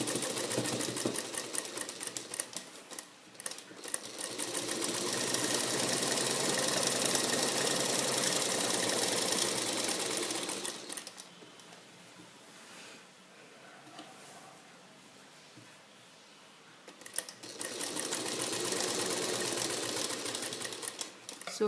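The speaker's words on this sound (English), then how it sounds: "So now start stitching the side of the sleeves." A sewing machine stitching the side seams of a sleeve runs with a steady fast whirring rattle, pauses for a few seconds into a quieter hum, then starts up again.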